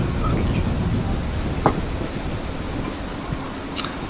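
Steady rain hisses with a low rumble of thunder underneath, and a couple of faint clicks stand out against the wash of the downpour.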